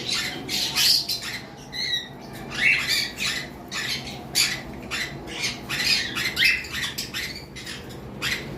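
Pet parrots squawking in sharp, shrill bursts, repeated calls close by with brief pauses between them and faint rustling in the background.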